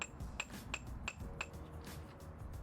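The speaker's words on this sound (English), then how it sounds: "Tap the axle with a hammer to insert the inner joint." Five sharp metallic taps of a hammer driving a CV axle into the inner joint on a 1990 Cadillac DeVille, steady rhythm, close, ringing briefly with a bright clink, then softer scraping and workshop hum.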